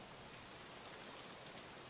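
Rain falling in a garden full of basil plants, a steady dense hiss of drops on leaves and ground, soft and continuous with no voices.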